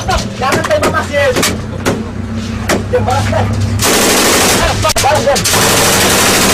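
Bursts of gunfire crack out repeatedly, loud and close, some shots isolated and others in rapid runs, building into a dense continuous fusillade amid shouting voices during armed conflict in Aceh.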